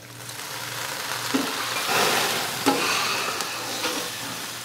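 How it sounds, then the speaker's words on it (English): Sausage fries in a pan with a soft steady sizzle and crackle, with a few louder pops and scrapes of stirring, heard up close and fairly quiet, with no talking. "my sausage continues to fry up"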